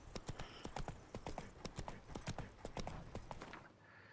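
Horse Roach galloping in The Witcher 3 video game, a rapid, even clatter of hoofbeats close up and continuous, easing slightly at the end.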